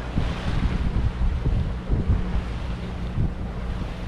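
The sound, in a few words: wind and waves while sailing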